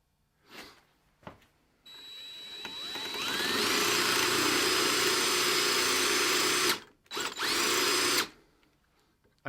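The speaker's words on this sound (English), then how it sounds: "we're going to have to drill this out, and then I can get it off of the gun" Power drill boring out a stuck sight on a Mini 14 rifle: a few short bursts, then a loud, sustained high whine that rises in pitch, stops abruptly, and returns in brief stuttering bursts, heard up close.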